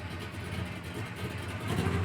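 A 1967 Plymouth Satellite with dual exhaust runs with a steady, deep rumble close by, swelling slightly louder toward the end of the short stretch.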